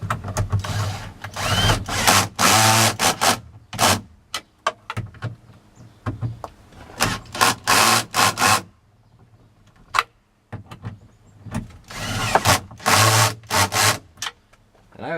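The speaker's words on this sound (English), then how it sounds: "just basically take the drill and tighten up the nuts here" A power drill tightens the mounting nuts on a tow mirror being fitted to a 1999–2007 GM truck, in several loud, close bursts of whirring separated by pauses and handling clatter.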